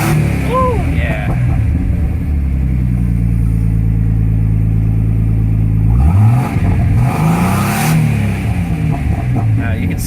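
Engine of a 1976 Datsun 280Z revving up steadily with turbo spooling, rising pitch sweeping upward then settling and climbing again, loud and close, with a voice talking over it.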